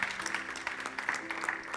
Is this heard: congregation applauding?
yes